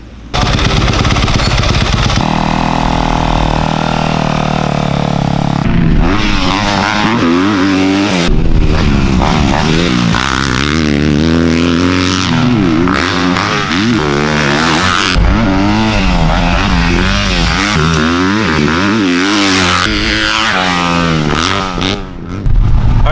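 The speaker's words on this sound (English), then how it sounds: "So we just finished up riding the 2020 YZ250F." 2020 Yamaha YZ250F dirt bike on a motocross track, its engine loud and close throughout, revving up and down in rapid surges through gear changes with no pause.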